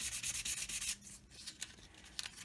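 A Squier Mustang guitar neck being sanded by hand with 400 grit sandpaper, close rapid back-and-forth scratching strokes that ease off and return more faintly.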